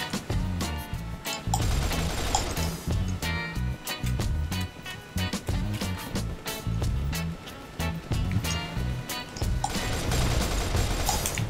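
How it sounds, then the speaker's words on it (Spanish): Rapid bursts of gunfire from the online shooter game Red Crucible 2, dense and continuous with overlapping shots and mechanical clatter throughout, loud and close with no speech. "Escucho disparos."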